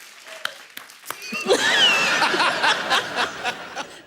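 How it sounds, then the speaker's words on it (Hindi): A studio audience on a comedy talk show applauds a tennis player's three titles. It starts with a few scattered claps, then swells into fuller clapping mixed with chuckles and a voice or two. "इसके लिए पहले तालियां होनी चाहिए।"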